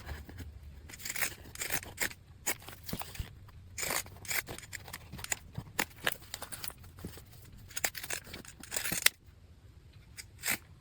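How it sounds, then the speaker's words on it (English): Scissors snip through the seam allowance of a sewn fabric travel sling, a run of short, sharp crisp cuts repeating unevenly at close range with faint handling rustle between them. "I'm going to trim off the seam allowance here"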